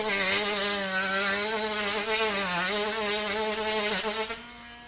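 Tork Craft mini grinder sanding knotty wood to round an edge, a steady high-pitched whine that wavers slightly in pitch under load, close and continuous before dropping off at the end.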